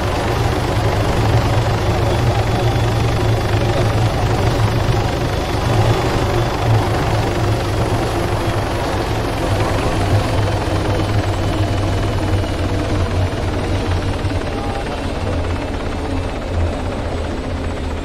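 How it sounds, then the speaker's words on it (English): A helicopter heard close and loud, its steady rotor thump and engine roar holding constant without letting up. "Chopper, new chopper."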